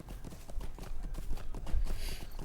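A horse mount's hooves clip-clop steadily in the Lord of the Rings Online video game, a fairly quiet, continuous rhythmic patter of game sound effects with no talking.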